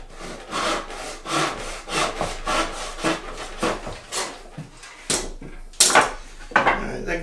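A hand saw cuts a miter slot into a wooden bench hook, steady back-and-forth rasping strokes in an even rhythm, close up, with a few knocks toward the end.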